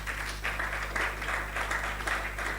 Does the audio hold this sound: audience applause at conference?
yes